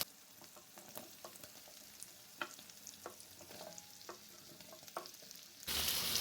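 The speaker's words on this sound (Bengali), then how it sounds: "লো ফ্লেমে ফ্রাই করে নিচ্ছি।" Onions and capsicum frying in a pan over a low flame for a chili carrot dish: a soft, steady sizzle broken by scattered spatula scrapes and taps, with a louder burst of hiss at the very end.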